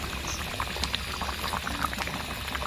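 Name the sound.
chicken and potato curry boiling in a pot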